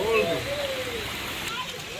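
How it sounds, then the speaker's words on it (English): Steady rain falling in Dominica on the island of the Nature Isle, a continuous broadband hiss heard from a balcony, with a faint tonal whistle or bird-like chirps near the start. "And it's raining."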